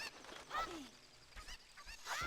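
A chicken in The Legend of Zelda: Ocarina of Time gives several short, faint squawks and clucks, scattered over a quiet game backdrop with soft thumps.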